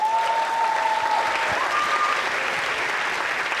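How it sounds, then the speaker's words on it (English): Sustained audience applause fills a hall during a student cultural show, Imperial College Malaysian Night 2019, as the crowd claps for the event's sponsors; dense, even clapping runs throughout with no speech. "can all of you guys give them a round of applause"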